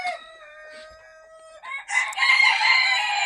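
Close chickens calling, a drawn-out tonal cluck giving way to a louder, rough crowing squawk.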